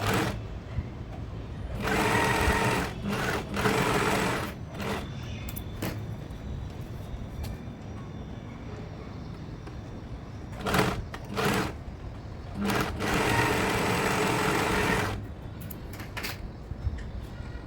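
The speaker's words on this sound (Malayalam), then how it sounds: "രണ്ട് വശവും നമുക്ക് നല്ല വശങ്ങൾ വെച്ചിട്ട് തന്നെ സ്റ്റിച്ച് ചെയ്ത് കൊടുക്കാം" A sewing machine stitches a crop top, running in several loud bursts of steady whirring with brief stops and restarts between them, close up and with no talking.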